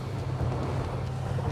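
Zar Formenti 65 motorboat engine running at speed through small waves, a steady low drone with broadband wash and wind rush, continuous and close with no talking.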